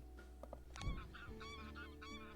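A goose honks repeatedly in the Wingspan video game, a string of nasal calls following a low thump, fairly quiet and with no voices.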